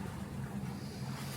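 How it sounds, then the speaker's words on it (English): Ocean waves wash continuously alongside a low steady engine rumble from a sailboat at sea between Port Vila, Vanuatu and Noumea, New Caledonia, with wind noise on the microphone, and no talking. "The waves are beautiful."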